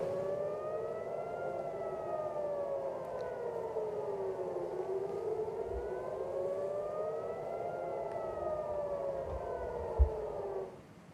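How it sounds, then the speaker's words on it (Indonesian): A wailing air-raid siren in Israel, warning of an Iranian missile attack, rises and falls in long, slow sweeps, steady and loud throughout, with a brief thump near the end. "Suara sirine terdengar sebagai peringatan warga Israel adanya serangan."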